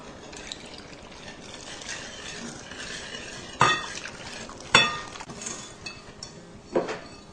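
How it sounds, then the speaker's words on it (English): Whisking cocoa powder, flour and milk together in a bowl, a continuous close scraping stir broken by a few louder clinks of the whisk against the bowl. "I'll just whisk those together, and then I'll gradually add in 1 cup of milk."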